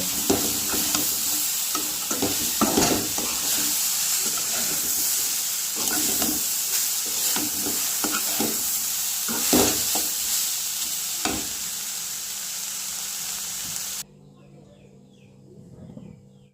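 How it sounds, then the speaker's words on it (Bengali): Coconut pithas sizzle in hot oil in a wok, a continuous frying crackle broken by repeated clinks and scrapes of stirring, fading out near the end. "কড়াইয়ে তেলটা গরম হয়ে গিয়েছে এবারে পিঠেগুলো এক এক করে ছেড়ে দেবো"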